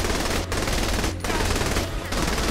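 An AK fires in Saints Row: The Third Remastered, unleashing loud, dense automatic bursts broken by two or three brief pauses, a harsh up-close clatter filling the whole stretch with no talking.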